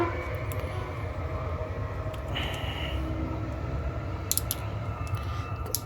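A train passes outside a workshop where a steering wheel is being taken apart, giving a steady low rumble and rolling clatter at moderate distance with a brief high whine partway through.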